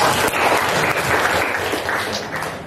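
Students in a classroom applaud two presenting groups during a math lesson, a brief burst of many hands clapping together, close and fairly loud throughout.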